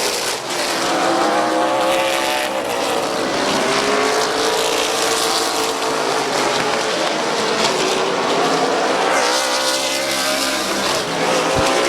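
Race cars with crate engines, including Mopars, roar around Midvale Speedway in a continuous loud pack, engine notes rising and falling as they pass close by.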